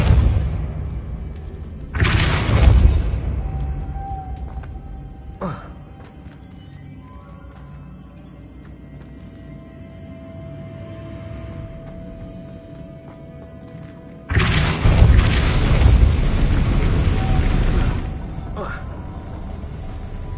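Depulso spell blasts in the Hogwarts Legacy video game: two loud, broad whooshing bursts several seconds apart, with quieter game ambience and a faint steady tone in between.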